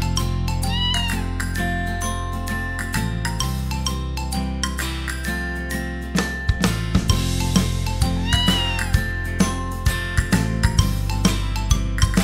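Cartoon cat meows repeat through a bouncy Vietnamese children's song, clear rising-falling calls riding over steady backing music and a tinkling melody, with a run of rhythmic percussive hits in the second half.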